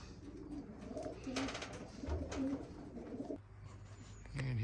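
Racing pigeons coo steadily at the loft, several soft throaty calls overlapping close by against a low background hum.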